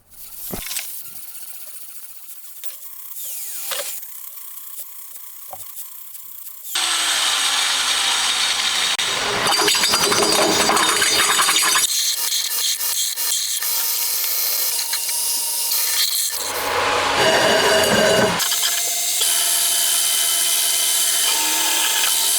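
Holes are drilled in metal parts for a homemade 125cc four-cylinder, 16-valve engine. After a quieter start with a few scrapes, loud sustained power-tool drilling runs in long bursts, broken by short pauses.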